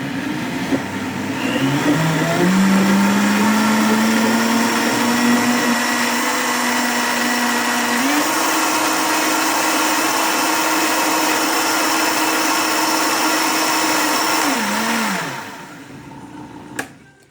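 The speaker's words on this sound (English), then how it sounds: "This is just to blend it because the tofu's already blended." Blender whirring a tofu and coconut flan mixture, a loud, steady motor whine that rises in pitch as it spins up, holds for several seconds, then winds down and stops.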